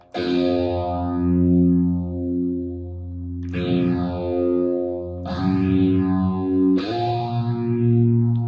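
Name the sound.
distorted electric guitars playing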